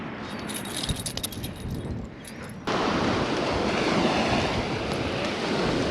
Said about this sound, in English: Hilton Head. Man, it's a cool beach.